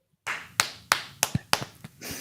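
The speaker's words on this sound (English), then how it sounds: "Slow clap." Several sharp hand claps at a slow, fairly even pace, about five distinct claps with short gaps between them, close and crisp against quiet room background.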